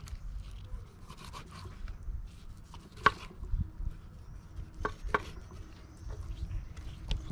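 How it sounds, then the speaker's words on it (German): Knife scoring cuts into a fresh, gutted fish at its thickest part, several short slicing and scraping strokes with a few sharper clicks on a board, close and fairly quiet with no talking. "ich mache diese Einschnitte, damit auch da so ein bisschen die Marinade mit reingeht"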